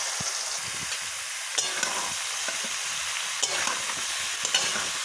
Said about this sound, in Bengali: তেলটা ভালোই গরম হয়ে গেছে, এবার এগুলো ছেড়ে দেবো সব।